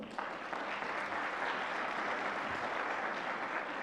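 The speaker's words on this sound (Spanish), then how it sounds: "Aplausos, por favor." An audience at a church Bible conference applauds during a certificate presentation, producing a dense, even wash of many hands clapping that lasts a few seconds without fading.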